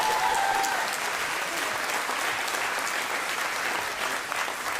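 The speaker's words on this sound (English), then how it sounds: "let's give them a round of applause" A crowd at a Women for Biden campaign event in Waukesha, Wisconsin, gives a loud, dense round of applause for elected officials, steady for several seconds.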